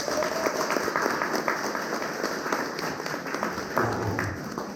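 Applause from a modest crowd at a lecture on apartment reconstruction, uneven individual claps close by, continuing steadily throughout.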